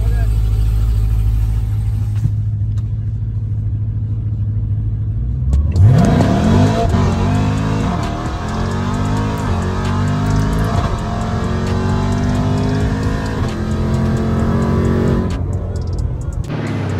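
A Lamborghini Urus and a Tesla Model X Plaid launch in a drag race, with a steady idle giving way to a loud, close engine roar that climbs through repeated rising gear pulls, and people talk over the run.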